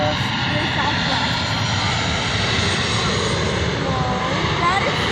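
Southwest Airlines passenger airplane passing overhead near Tampa International Airport, a steady loud engine roar that fills the whole clip, with people talking over it.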